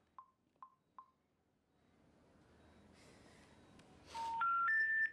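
A telephone number is dialed on a phone, with three short soft tones at first, then a quick rising series of keypad beeps after a rustle, in a quiet room.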